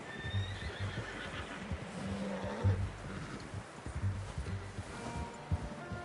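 Horse hooves clip-clop in the Red Dead Redemption video game, a regular plodding rhythm of close hoofbeats with a whinny.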